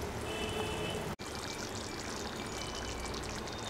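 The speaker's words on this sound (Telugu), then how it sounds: "సిద్ధం చేసి పెట్టుకున్నటువంటి కొబ్బరి, జీడిపప్పు, సారెపప్పు పేస్ట్ వేసుకోవాలి." Thick coconut, cashew and seed paste poured into a simmering mango chicken curry, a steady close pour with a brief break near the middle, then continuing evenly without talk.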